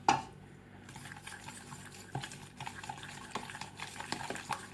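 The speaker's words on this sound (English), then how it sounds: "Now we're making a nice wheat paste." Flour and water stirred into a wheat paste in a bowl, a soft wet swishing broken by small clinks of the utensil against the side, faint and close, with an initial knock at the start.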